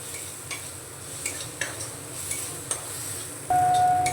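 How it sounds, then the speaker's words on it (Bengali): Spice paste with slit green chillies stirred and frying in a pan for bitter gourd chorchori, a soft steady sizzle with occasional scraping stirs and a brief tone near the end. "চেরা কাঁচা লঙ্কা দিয়ে মশলার সঙ্গে একটু কষিয়ে নিয়েছি"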